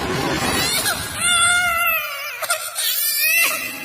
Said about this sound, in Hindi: तमन्ना के रोने की आवाज सुन के वो पलटी